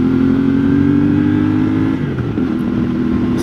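A CFMoto 450MT motorcycle accelerates hard with a loud, steady engine drone that briefly dips and resumes, like a gear change, with no talking.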